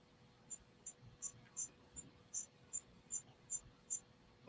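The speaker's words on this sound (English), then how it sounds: "Crickets. And like a summer night." Crickets chirping on a summer night, heard as about ten evenly spaced high trills in a regular rhythm over a quiet, faint background.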